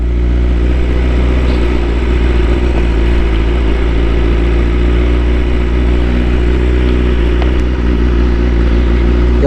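A motorcycle engine runs steadily and loudly while the bike is ridden, a continuous close drone with a slight pulsing hum and no change in pitch throughout.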